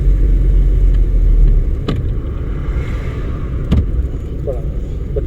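A car rolls along after a shift into third gear during a driving lesson, giving a steady close rumble of road and engine noise with a few faint clicks, and no talking.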